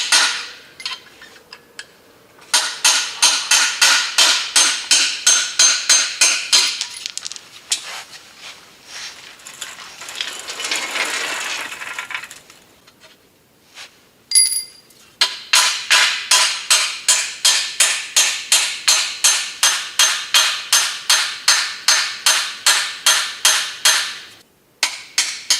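Factory pins are hammered into a Tremec T56 six-speed transmission with loud, close, rapid hammer blows in two long rhythmic runs, separated by a pause of quieter shuffling.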